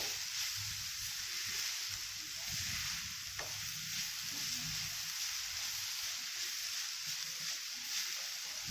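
Jaggery being sautéed and melting in a pan for modak filling: a soft, continuous sizzle with faint stirring scrapes and one brief clink, quiet and close.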